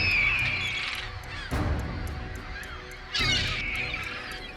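Urban gulls in an inner-city Birmingham jewellery quarter give harsh, screeching calls, loud and close, in repeated bursts with short gaps between them.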